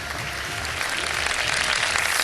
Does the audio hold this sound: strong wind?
no